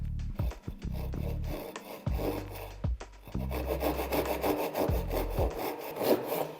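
Cheap Temu hand saw cutting through timber with its rough-toothed side, close and loud, giving a run of rhythmic rasping push-pull strokes with short pauses between bursts.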